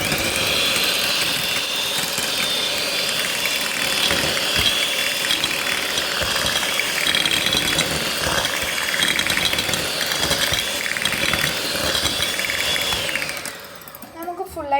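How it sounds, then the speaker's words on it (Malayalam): An electric beater whipping milk cake batter, a steady loud whirring buzz running close up for most of the time before cutting off near the end, with a voice talking over it. "എന്നിട്ട് ഇത് നല്ലോണം ഏറി ആക്കിയിട്ട് ബീറ്റ് ചെയ്തെടുക്കുക"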